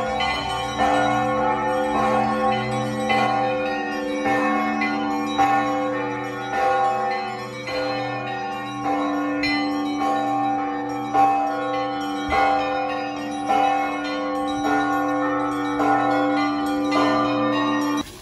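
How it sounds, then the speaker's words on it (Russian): Bells chiming a melody on the seafront at Dzintari in Jurmala, Latvia, a sequence of tuned strikes with ringing tones that overlap and sustain, loud and clear outdoors for many seconds. "Все люди снимают, как бьют колокола."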